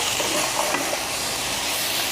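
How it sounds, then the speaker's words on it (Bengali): Papaya frying with spices in a pan gives off a steady, close sizzle with a soft hiss throughout and no talking. "পেঁপেটা মশলা দিয়ে আমার ভাজা হয়ে গেছে"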